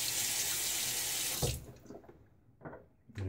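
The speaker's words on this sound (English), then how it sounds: "And a little quick half rinse." A bathroom tap gushes water for a quick rinse during a wet shave, a steady close hiss that cuts off after about a second and a half, followed by faint splashes and drips.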